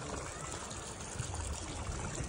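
Continuous splashing and trickling water with a steady rush, fairly close, with no distinct speech over it.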